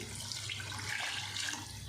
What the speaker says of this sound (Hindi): हम थोड़ा सा चला के पानी ऐड करने लगे